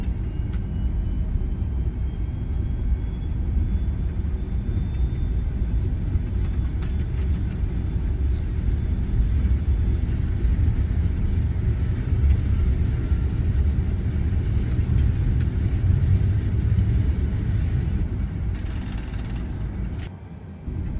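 Demo of the A32NX Airbus aircraft sound pack in Microsoft Flight Simulator: a steady, loud low rumble of engines droning continuously for about twenty seconds, briefly dipping near the end, with no talk.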